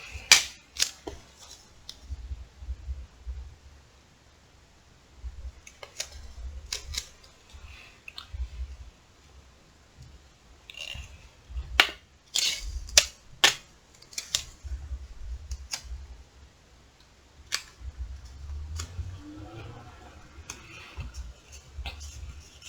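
Tape is pulled and handled nearby in quiet surroundings, making scattered sharp snaps, crinkles and short ripping bursts at irregular intervals, with faint low rustling between them and no speech.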